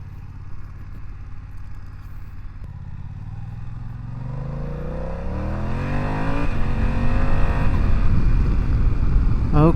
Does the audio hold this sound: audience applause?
no